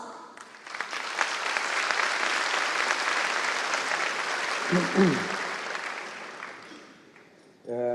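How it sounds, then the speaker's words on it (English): Sustained crowd applause at a European Chamber of Commerce Taiwan banquet, a broad, even wash of clapping from a large room that swells and lingers for several seconds before fading, with a brief voice near the end. "Round of applause"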